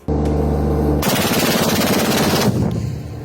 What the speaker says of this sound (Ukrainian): Українські військові продемонстрували роботу зенітного артилерійського комплексу німецького виробництва Skynex.